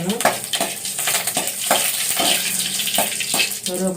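Curry leaves and mustard seeds fry in a pan for a potato stir-fry, giving a close, crackling sizzle. Regular scraping strokes of a spatula stir through it about every half second.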